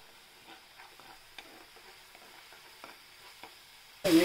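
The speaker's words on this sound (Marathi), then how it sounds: "हे लसूण आणि गरम मसाला, जे लवंग, वेलची, मिरे आणि टाकले होते ते तेलात परतून घेऊया।" Garlic and garam masala of cloves, cardamom and peppercorns being stirred in hot oil, faint sizzling with soft scraping stir strokes, then a sudden louder burst at the very end.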